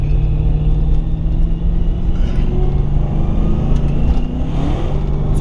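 A car's engine hums steadily from inside the cabin while driving, a constant low drone with road rumble and slight shifts in pitch, and no talking.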